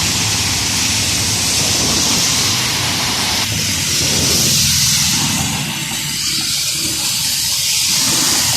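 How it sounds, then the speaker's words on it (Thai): Steady, loud rain pours down on Ratchada Road in Bangkok during a storm, a constant wash of hiss that continues without a break. "ตอนนี้ฝนกะ ตกมาเรื่อย ๆ"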